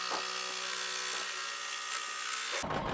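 An embroidery machine stitches the second colour of an in-the-hoop fabric notebook cover, giving off a close, steady mechanical buzz that stops abruptly near the end.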